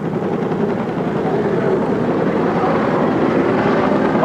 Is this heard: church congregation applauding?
no